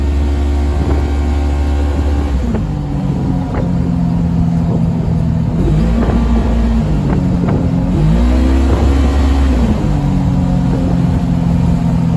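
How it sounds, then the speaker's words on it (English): Inside the cab of a 2024-2026 Polaris RZR XP 1000 side-by-side at wide open throttle, the engine roars loud and steady, its pitch rising and dipping through several gear changes, with a heavy low rumble throughout. "there's wide open throttle there."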